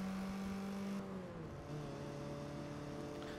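A Porsche in the racing game Forza 6, its engine a steady, moderately loud whine that shifts pitch as it drives, with no talk over it.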